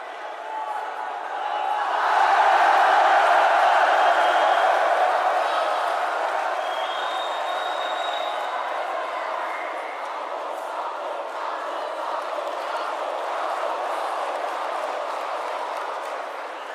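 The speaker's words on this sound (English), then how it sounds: "A minute's applause to remember the former Brighton manager." Stadium crowd at a Brighton Premier League football match applauding in tribute before kickoff, a broad sustained roar of clapping and cheering that swells after a couple of seconds and holds steady throughout.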